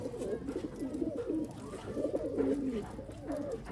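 A loft of Sialkoti pigeons coos in overlapping, rolling phrases, several birds calling close by in a continuous, gently pulsing murmur with no talk over it.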